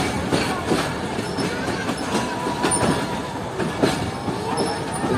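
Sir Syed Express rolling into Faisalabad railway station gives a steady rumbling clatter of wheels over the rails, with occasional squeals and clanks from the track, heard close from inside the train.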